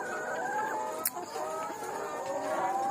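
Domestic chickens cluck in a poultry coop where the birds had recently been sick, several hens calling in overlapping, close, steady bursts with a brief sharp squawk partway through.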